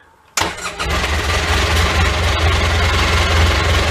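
A Polaris Ranger 800XP utility vehicle engine cranks and catches after a brief quiet moment, then settles into a loud, steady, rattly idle close to the listener.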